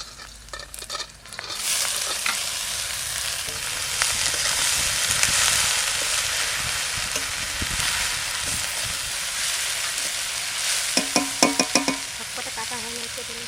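Greens and green chillies frying in a pan with onion and garlic, a loud continuous sizzle with stirring scrapes and clatters, close by; a few sharp knocks near the start and end.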